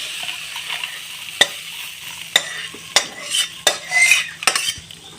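Fried jute leaves being stirred in a pan with a metal spatula before coming off the heat: several sharp scrapes and clinks against the pan over a faint sizzle, close up, with no talking.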